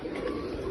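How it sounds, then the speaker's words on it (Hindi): A pure Rampuri pigeon coos in a soft, low, brief murmur, close by in a village setting. "ਇਹ ਮਾਸ਼ਾਅੱਲਾ ਜੀ ਪਿਓਰ ਰਾਮਪੁਰੀ ਕਬੂਤਰ ਹੈ"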